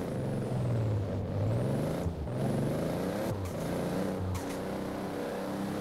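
A 2JZ-powered Hot Wheels car in Forza Horizon 4 drones loud and steady at high revs, its pitch climbing through the gears, with brief dips at each shift and a short hiss of air between them.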